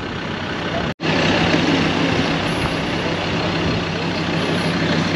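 Off-road pickup or SUV engine, such as an S10, SW4 V6 or Jeep Compass, roaring steadily under load while being pulled from a sand dune, loud and close, with a brief cut near the start and faint voices beneath.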